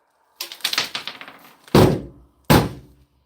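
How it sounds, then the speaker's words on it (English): Junk dumped from a Cornwell toolbox drawer in a shop, a quick clattering run of small metal parts followed by two heavy, close thunks about a second apart, with no talking. "Unlock this drawer and I can dump the junk out of it."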